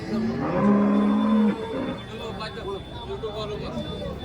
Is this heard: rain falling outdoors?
no